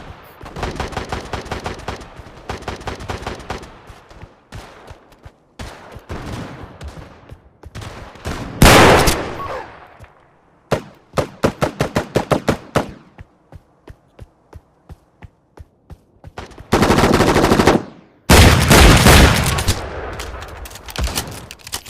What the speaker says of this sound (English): If one shotgun wasn't enough, get two.